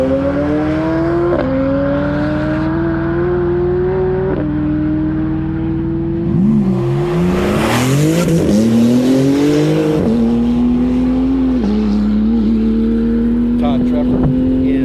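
A McLaren 720S race car at a NOLA track event: loud engine note climbing steadily through gear changes with stepped drops, a brief burst of tire noise and revving mid-clip, close by under a commentator's voice.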